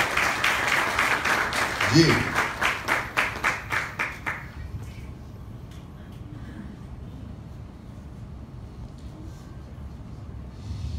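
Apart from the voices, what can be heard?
congregation clapping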